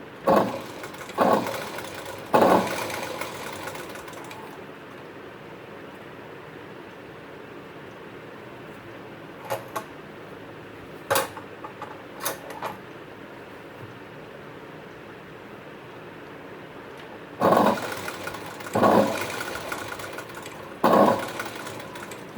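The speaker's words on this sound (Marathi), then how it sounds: "हळूहळू शिलाई मारायची घाई करायची नाही" Sewing machine stitching a blouse neckline lining, heard in short bursts of fabric feeding at the start and again near the end, with a quieter stretch of faint clicks between.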